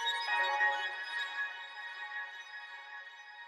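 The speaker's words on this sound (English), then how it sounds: "So the first thing that I added was this Early Birds accent from Loner" A short melodic accent sample, the "Early Birds" sound for a wavy rap-style beat, plays as bright, shimmering tones that swell briefly and then ring out and fade quietly.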